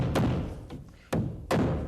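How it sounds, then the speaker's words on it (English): A hammer drives a nail into the mortar joint of a brick wall, giving three sharp close strikes with dull thudding bodies at uneven intervals. "it will nail into the mortar joints just about that simply"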